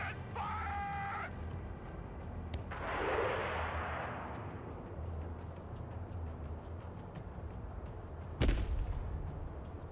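Gunfire and artillery in the video game Broken Arrow: a rolling blast opens the clip, and a sharp loud crack comes near the end, over a constant rumble of combat noise.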